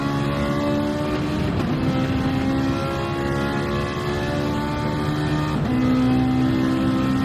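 Racing cars, a Porsche among them, howl together in a DTM sim race, a steady close engine drone with layered tones and gear-change pitch jumps, no voices.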